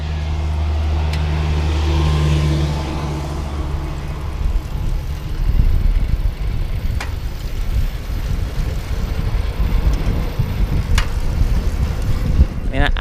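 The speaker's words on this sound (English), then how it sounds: "It's a little bit breezy here" Breeze blowing across a microphone while riding an electric bike on a path, a steady rumbling wind buffet that grows rougher and louder midway, with occasional faint clicks and no clear talk.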